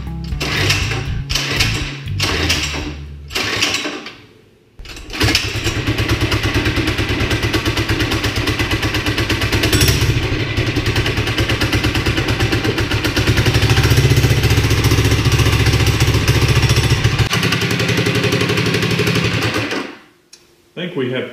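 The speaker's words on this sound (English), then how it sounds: "We've got it bolted up and it's time to try to start it." A cheap modified mini bike engine sputters through a few false pulls, then catches and runs with a loud, buzzing, steady rattle for about fifteen seconds before cutting out.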